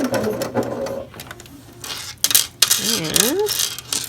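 A sewing machine runs in short bursts as it stitches slippery felt to fabric layers while sewing a needle tag, with clanking mechanism noise and a few faint clicks between runs.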